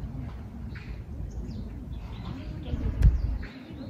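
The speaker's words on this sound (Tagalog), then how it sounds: "naririnig niyo yung mga huni ng ibon" Birds coo and chirp softly during a walk in Seoul, with a pigeon-like cooing and a few light calls over low rumbling background noise, plus a brief sharp knock.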